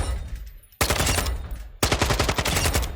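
Automatic rifle fire in Warzone 2.0 erupts in two long, loud, rapid bursts of close shots separated by a short pause.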